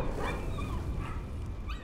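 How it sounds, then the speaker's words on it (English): Dogs barking and whimpering in the horror video game Layers of Fear, a steady run of yips and barks close by over a dark, droning game ambience, with no talk. "Oh, I hear dogs."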